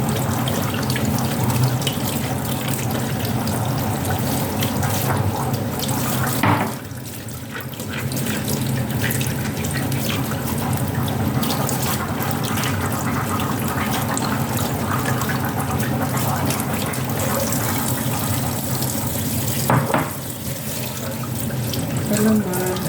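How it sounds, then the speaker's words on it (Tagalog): Okra being washed under a steadily running kitchen tap, with water splashing continuously into the sink for the whole stretch and a brief dip in the flow partway through. "Siyempre, huhugasan natin ang ating okra."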